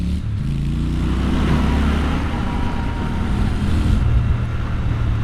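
A Triumph Scrambler 1200XE motorcycle pulls hard in third gear, its engine droning loud and close with steady wind rush as the throttle opens on a test ride.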